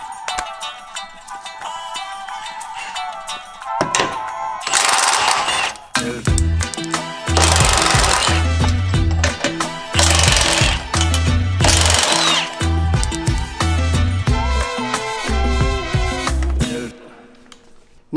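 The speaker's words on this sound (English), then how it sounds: "Impact wrench" Impact wrench with a 16mm socket driving frame-mounted rock slider bolts on a Jeep JL Wrangler Unlimited, loud close rattling hammering bursts separated by short pauses, over a mechanical whine.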